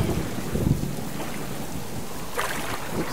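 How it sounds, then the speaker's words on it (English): Heavy rain in the survival game Subsistence hisses steadily, loud and close, with a deep rumbling wash underneath and a brief brighter splash of noise toward the end. "look at that rain"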